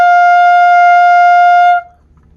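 A single sustained high D on saxophone, reed-like and held steadily for under two seconds, bright and clear, then cut off into near silence.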